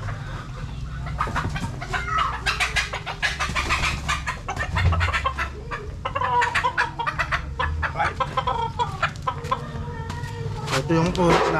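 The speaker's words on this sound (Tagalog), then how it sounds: "Ito yung pullets natin, Albany Sweater." Albany Sweater gamefowl pullets cluck close by in rapid overlapping bursts over a low steady background hum, with a person speaking briefly among them.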